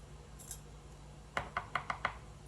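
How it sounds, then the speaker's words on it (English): Jalapeño pepper tapped against a surface to knock out its seeds: five quick, crisp taps in a steady row, close and fairly light, over a quiet room. "just tap it on out and all of your seeds will come out"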